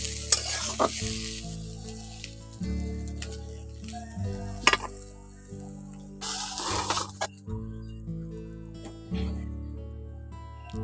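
Drumstick stems fry in a pan with a steady close sizzle, broken by repeated sharp scrapes and clatters of stirring that come in short bursts through the clip.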